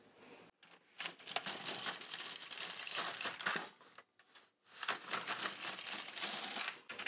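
An LK150 knitting machine carriage pushed across in rows of tuck stitch, making rattling, clacking sweeps of a few seconds each separated by short pauses, fairly faint and close.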